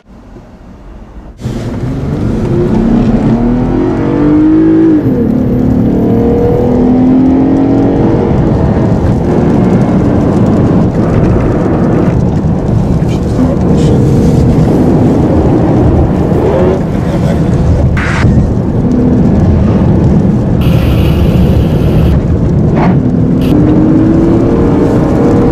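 A 2014 Lexus IS 250 Sport drives on a wet track, its engine swelling and revving in long pulls over a constant road and tire roar, loud and close throughout.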